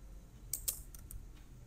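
A few quiet keystrokes on a computer keyboard while entering a Windows routing command, a brief irregular cluster of soft clicks over faint room hum.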